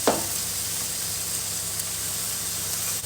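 A pork chop sears fat side down in a hot pan, giving a steady, loud, close sizzle with a constant hiss and a brief sharper crackle at the very start.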